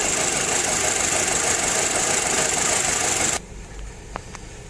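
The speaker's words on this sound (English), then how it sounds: "Comes right back to the rough idle." A 2006 Volkswagen Passat engine idles roughly after a repair, a loud, close, uneven running drone with a knocking pulse that drops off abruptly near the end, leaving quiet background.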